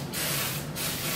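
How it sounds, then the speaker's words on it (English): Cooking spray hisses into a baking bowl in two close, loud bursts with a short break between them, no voices present. "I'm just going to take some of the spray and I'm going to spray it all into the bowl"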